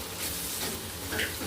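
Gram flour (besan) roasting in oil with tomatoes for a soybean masala curry, giving a steady soft sizzle of frying throughout, close and moderately quiet, with no talk over it.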